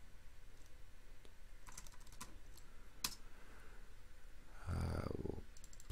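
Typing on a computer keyboard: a few scattered key clicks, then a quick run of taps and a louder thump, all close and fairly quiet against a low room hiss.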